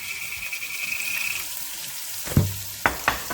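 Onions frying in leftover oil in a pan, a faint steady sizzle with a few sharper clattering knocks and stirring sounds near the end, no talking.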